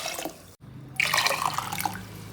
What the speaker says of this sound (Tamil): நான் ஒரு 6 கப் அளவுக்கு தண்ணி ஊற்றுறேன்